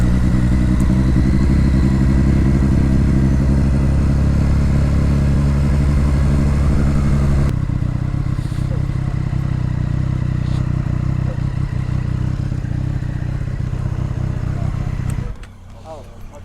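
Motorcycles, including a Triumph Street Triple 765, rumble loudly and close for several seconds on a touring trip to Dartmoor. The roar then eases into lighter road noise and cuts off near the end.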